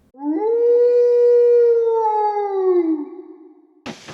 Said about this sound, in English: We turned in for the night under the corn moon, with werewolves howling in the distance.